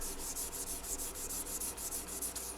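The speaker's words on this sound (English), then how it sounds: "I like to use this gray Scotch-Brite pad" Gray Scotch-Brite pad rubbed over a guitar's lacquer finish during refinishing, a steady close scrubbing hiss in quick regular back-and-forth strokes, with no talk.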